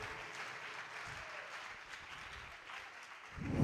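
A church congregation applauds to acclaim the king of kings, a faint and distant steady wash of many hands clapping that swells slightly at the end.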